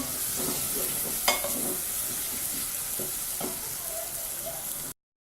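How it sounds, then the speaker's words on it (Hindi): Steady loud sizzling of garlic, ginger and onion frying in a pan, with occasional stirring scrapes and clinks over the continuous hiss. "अब इन तमाम चीजों को कम से कम 5 मिनट फ्राई कर लें"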